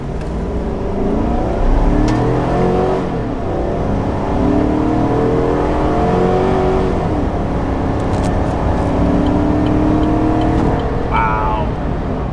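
A Chevy Silverado 1500 5.3L V8 or GMC Sierra 2500 AT4 6.6L gas V8 pickup revs hard and climbs through the gears, a loud sustained roar rising in pitch, heard close from inside the cab.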